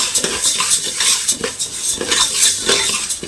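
Legumes being dry-roasted and stirred in a pan for bassaru. A spatula scrapes and clinks against the metal in a quick, uneven rhythm, close and fairly loud, with no talking.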